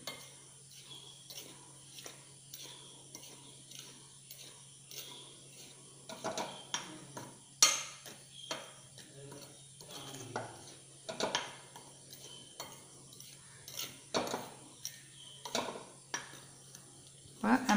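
A spoon stirs salt, baking powder and sugar in a bowl, giving scattered faint clinks and scrapes against a quiet background.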